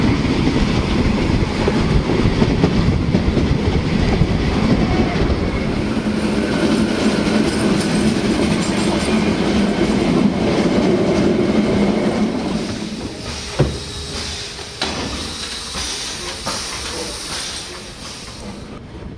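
A Selketalbahn narrow-gauge railcar runs along the rails with steady rumbling and clickety-clack for most of the stretch, then eases into a quieter, lighter rolling sound toward the end.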